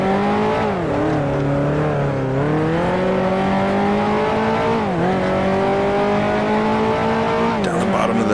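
Simulated 1955 Formula One race car from the Grand Prix Legends video game, engine droning loudly and continuously as it drops through the gears to first for a left-hand corner, pitch falling in steps, with faint tire noise near the end.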